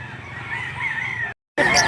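Rooster crowing at a livestock auction market in Lipa, Batangas, one long drawn-out crow that breaks off briefly, then a second loud burst of crowing close by.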